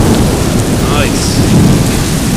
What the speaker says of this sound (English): there's a big thunder coming up in 5 seconds